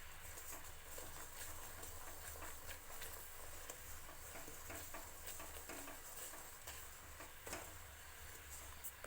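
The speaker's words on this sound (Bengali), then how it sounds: "পাটালি বানানোর জন্য এভাবে বেশ কিছুক্ষণ নাড়তে হবে।" Melted jaggery for peanut patali is stirred in a pan, giving faint soft scraping and ticking of the utensil against the pot, quiet and continuous throughout.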